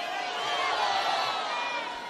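Crowd at a Mexican ranchera concert shouting song requests together, a steady wash of distant voices with no clear words standing out.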